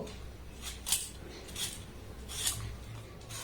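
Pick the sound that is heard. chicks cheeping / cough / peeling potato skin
peeling potato skin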